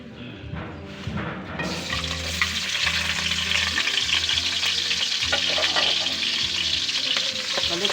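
Garlic and onion sauté in a pan for miki guisado. After a quieter start, the sizzle rises to a loud, continuous crackle, with stirring scrapes and a faint melody behind it.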